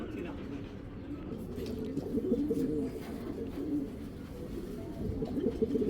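Male pigeon cooing inside a cage, low throaty rolling coos going on continuously, close up, with someone talking over them.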